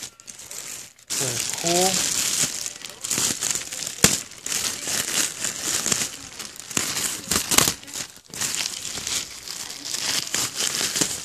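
Plastic packaging around a 60x80 plush Raschel throw blanket crinkles and tears loudly and continuously up close, with a person speaking briefly near the start.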